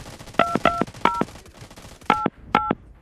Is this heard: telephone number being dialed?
yes